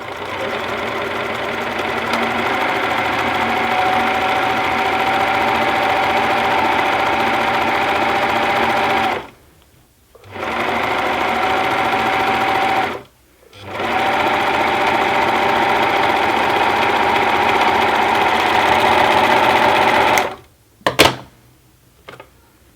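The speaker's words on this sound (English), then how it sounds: "if you've got a serger or an overlocker, just run a line along the edge where your weaving meets the" Serger overlocker stitching along the edge of handwoven fabric where weaving meets fringe, a loud fast steady mechanical whirr in three long runs separated by brief pauses, with a few short bursts at the end.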